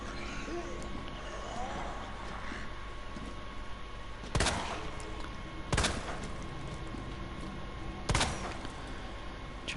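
Gunfire from the Resident Evil 2 Remake video game as zombies are shot: three sharp, loud reports spaced a couple of seconds apart over a steady low ambient rumble.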